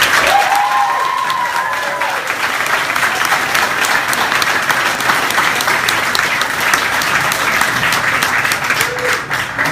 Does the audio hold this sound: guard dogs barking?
no